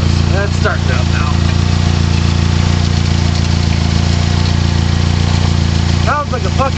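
Idling car engine with a failing torque converter, a steady mid-pitched drone with a continuous metallic rattle like loose BBs in a can, close and loud, with brief voices near the start and end.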